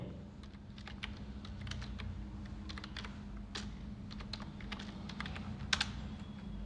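The income tax website address is typed into a Google search on a computer keyboard, a steady run of light, fairly faint keystrokes over a low room hum, with a couple of louder taps near the end.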